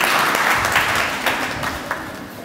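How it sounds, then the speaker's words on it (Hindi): Audience at a mushaira poetry recital applauds steadily as the poet Zunair Naqvi is invited to the stage, a dense, moderately loud wash of clapping that eases slightly toward the end. "आप सबकी भरपूर तालियों में ज़ुनैर नकवी।"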